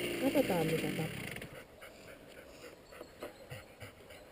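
A sled dog at a working trial pants in quick, breathy bursts close by, with a voice talking briefly at the start and faint rustling through the rest.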